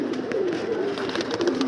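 Pigeons perched outside in the midday sun coo softly and repeatedly, close by, over a faint outdoor background.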